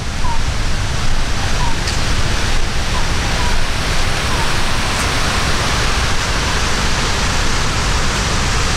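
Surf breaking on the beach at The Zign Hotel in Thailand, a loud, constant broadband roar of waves with no distinct breaks, filling the whole stretch.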